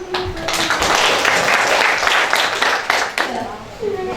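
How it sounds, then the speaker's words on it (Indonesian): A classroom of students claps together in a brief, lively burst, with a few voices mixed in and scattered hand taps trailing off near the end. "kasih tepuk tangan dulu"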